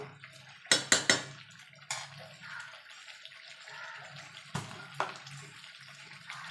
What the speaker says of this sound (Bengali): মাংসটা কষানো হয়ে গেছে এবার জল দিয়ে দেবো